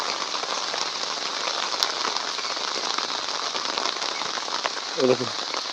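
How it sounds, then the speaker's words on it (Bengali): Steady rain falls on a netted pond in a broad, continuous hiss of drops hitting the water, with a brief sharp click midway and a short low thump near the end. "পুকুরে দেখালে বুঝতে পারবে কেমন বৃষ্টি হচ্ছে"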